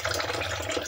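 Tap water runs steadily over thawing mackerel in a sink, making a continuous close splashing wash with no voices.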